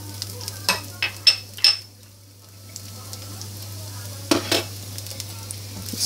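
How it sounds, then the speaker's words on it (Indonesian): Crushed garlic drops into hot oil in a pan, giving a few sharp spatula clinks followed by a faint, steady sizzle under a low hum. "Nah, oke, sudah panas. Kita masukkan bawang putihnya."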